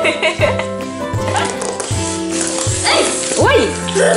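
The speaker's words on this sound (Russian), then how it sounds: "Она что, лает?" A Zoomer Kitty robot toy kitten gives a string of electronic yips and barks close by, bursts repeating over a few seconds, while a person talks alongside.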